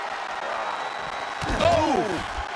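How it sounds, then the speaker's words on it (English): Video game crowd noise from WWE 2K23 wrestling, a steady broadband roar that swells louder midway under wrestling action sounds, with some voice-like tones on top. "The sound of this crowd is deafening"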